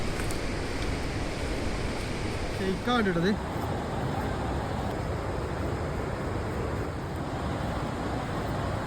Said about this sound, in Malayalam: സൂപ്പർ വെള്ളച്ചാട്ടം ഇത് വെള്ളം കുറവായതുകൊണ്ട് തന്നെ മൂന്ന് ഭാഗത്തു കൂടെ ആയിട്ട് അങ്ങനെ ഒഴുകി ഇറങ്ങണുള്ളൂ താഴത്തേക്ക്